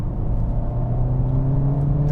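Honda Civic Type R hatchback accelerating hard, a steady close engine drone with a strong low hum and rising tone, loud and continuous with no talking.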